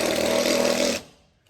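A corded electric drill driving screws into a truck bed makes a loud, close, steady whirring buzz for about a second, then stops abruptly and the sound dies away.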